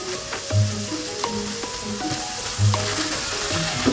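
A chopped medium onion sautés in a pan for a street-style stuffed burger, with a steady close sizzle and a few light stirring scrapes on top.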